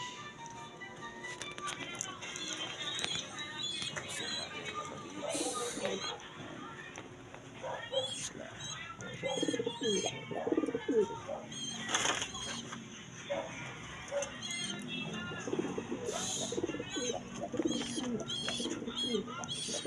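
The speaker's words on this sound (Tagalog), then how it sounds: "Ayan yung kalapatids." Pigeons coo repeatedly at close range, soft throaty calls recurring through the clip over a busy background with other birds and a person talking.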